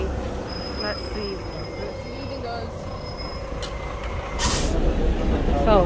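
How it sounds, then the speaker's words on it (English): A tour bus pulls up on a street in Cordoba, Spain, its engine rumbling steadily under a high whine, ending in a loud hiss of air brakes near the close; people talk faintly nearby. "So there's our bus."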